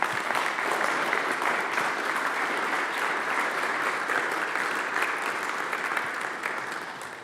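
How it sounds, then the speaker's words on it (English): A parish audience at a Jesuit church talk gives a speaker a sustained round of applause, dense and even throughout, many hands clapping together and tapering slightly at the close. "Let's give her another round of applause."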